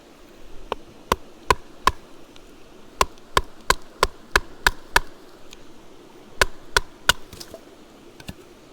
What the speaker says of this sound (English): How about some regular batoning?